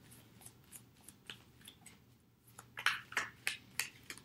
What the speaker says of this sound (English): let's shuffle while we talk